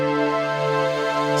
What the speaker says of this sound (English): I've got another large pad here which has got two wavetable oscillators with different wavetables and a Surge Classic VCO